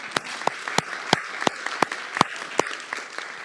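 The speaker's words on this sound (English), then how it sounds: "go ahead and clap for her, please." Sparse audience clapping for the next presenter at a presentation session: sharp, distinct claps in a steady rhythm, roughly three per second, over a faint murmur of background clapping from a small group.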